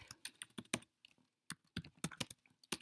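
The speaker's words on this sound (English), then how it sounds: "if I can type here" Computer keyboard typing in quick irregular bursts of clicky keystrokes with a short pause midway, close and fairly quiet, with no talking.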